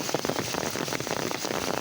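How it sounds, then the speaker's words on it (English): Steady, heavy rain pours down around a drain being unplugged, a dense continuous patter hitting the surface at close range, with no voices. "And come to rain, it's harder now."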